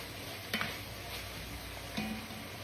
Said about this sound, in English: Let me grab a spoon here. Stir that in.